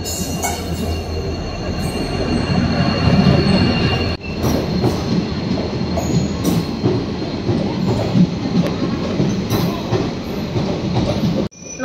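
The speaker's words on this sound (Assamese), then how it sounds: "বাট ৰখিছে" A train pulls into a station with loud rolling rumble, clattering wheels and squealing brakes, then a sudden cut as it comes to a halt.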